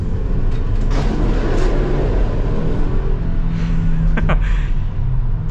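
A 2023 Mercedes Sprinter diesel van drives along with a steady loud engine and road drone, broadband rumble continuous throughout with a brief higher-pitched squeak or whine near the end.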